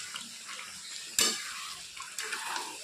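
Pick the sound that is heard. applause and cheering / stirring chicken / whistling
stirring chicken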